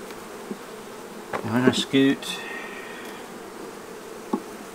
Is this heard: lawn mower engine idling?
no